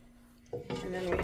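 A spoon scoops Mexican red rice onto a plate: quiet at first, then a soft clink and scraping of utensil against dish, close and brief, with a voice speaking faintly underneath.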